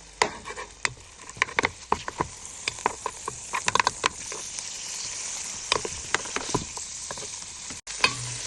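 Prawns, chorizo and bacon sizzle and crackle in a hot pan, with a busy patter of sharp pops and spits over a steady frying hiss, heard close up and with no voices.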